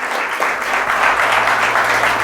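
A church congregation at a Palm Sunday service claps together in a continuous, even burst of many hands that holds at a steady loudness over about two seconds.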